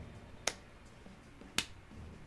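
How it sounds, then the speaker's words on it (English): Two slow, sharp hand claps about a second apart, crisp and isolated over a quiet low background, heard while playing Persona 5. "I'm gonna give you a slow clap"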